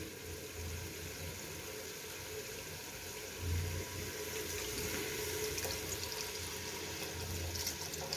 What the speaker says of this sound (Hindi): अब इसमें पानी ऐड करेंगे हस्बे ज़रूरत